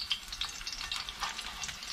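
Dungeness crab cakes fry in grease in a pan, a faint, close crackle with small irregular pops and spits over a soft steady hiss.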